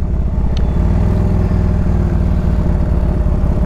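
A 1997 Harley-Davidson Ultra Classic motorcycle engine runs steadily, a loud, close, continuous throbbing idle with even low rumble throughout and no talk.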